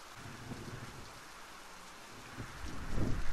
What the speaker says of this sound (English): Ooh, that was a lightning strike that tried to get me.